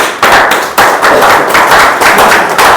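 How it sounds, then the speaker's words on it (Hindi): Loud, dense applause from a crowd at a celebration gathering, steady rapid clapping that surges in repeated waves with no voices on top. "आप लोग के जोरदार तालियों के बीच में"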